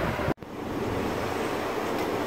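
Water poured from a jug into a cooking pot of minced beef and chana dal in a home kitchen, a steady broadband rushing pour running continuously after a brief cut, fairly loud and close, with no talk.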